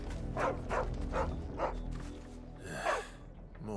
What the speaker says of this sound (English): Ah, oh, it's a dog.